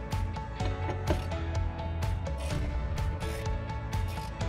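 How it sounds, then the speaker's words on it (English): A ratchet wrench clicks steadily while working a 7mm bumper bolt on a 2015-2020 Chevy Colorado, producing rapid close metallic ticks over a constant mechanical background. "the first bolt we're going to want to remove is this 7mm bolt right here"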